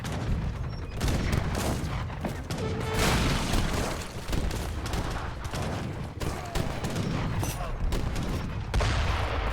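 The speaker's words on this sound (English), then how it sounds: "There's 4 mortars there taking down those walls" Continuous crackling bursts and booms of mortars and bombards pounding stone walls during a real-time strategy match, a dense, steady barrage of overlapping impacts throughout.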